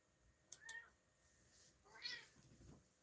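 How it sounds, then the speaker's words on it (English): A cat meowing indoors at a quiet distance, giving a couple of short high calls followed by a longer, wavering meow. "My cat heard me talking about her."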